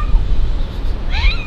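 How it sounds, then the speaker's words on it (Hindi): A cat in Abu Dhabi lets out a short, close meow with a rising tone over low background rumble, heard alone without talk. "अबू धाबी वाली बिल्ली है ये।"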